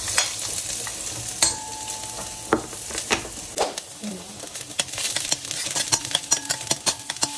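Garlic frying in hot olive oil in a casserole pot, a steady sizzle with stirring scrapes and light clinks from the pot, running continuously at close range without talk.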